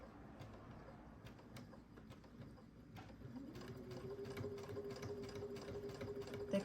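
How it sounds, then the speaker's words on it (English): Sewing machine set to slow speed stitching in the ditch along pillow seams, a steady close mechanical whir with soft rhythmic needle ticks that rises into a sustained hum. "They call that stitch in the ditch because you're stitching right in the little pathway of where your two seams are."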